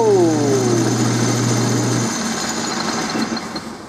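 A metal lathe turning 4140 heat-treated steel hoist pins at 1300 RPM gives a loud, steady machine hum with a high whine, then a falling pitched tone that fades as the cut ends, with no talking.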